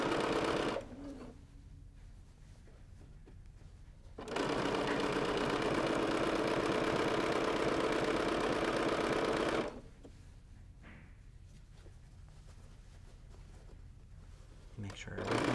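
Sewing machine with a stitch-in-the-ditch foot stitching binding along the edge of a quilt, one steady whirring burst of several seconds between quieter pauses where a person talks.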